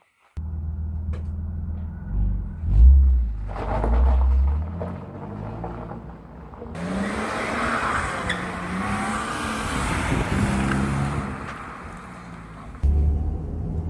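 A 1999 BMW Z3 2.8 six-cylinder with dual exhaust pipes drives with a loud, steady engine and road roar, with heavy low rumble early and a broad hiss of tyre and wind noise through the middle, fairly close and without talk.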